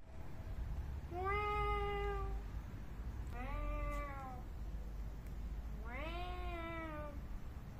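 A cat gives three drawn-out meows with short pauses between them, fairly close against a low, quiet background hum.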